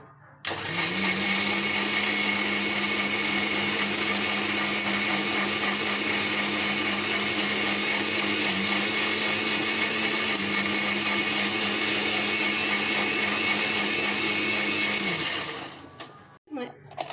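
A kitchen blender grinds garlic chutney in a steady, loud whir for about fifteen seconds, its motor pitch holding nearly constant before it stops abruptly near the end.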